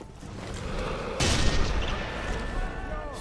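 A sniper rifle shot in the video game Sniper Elite 3: Afrika, one sharp loud report followed by a ringing, rumbling tail over steady game ambience.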